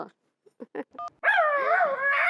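A dog barks in a few short yips, then lets out a sustained whining howl, close and fairly loud against a quiet domestic setting.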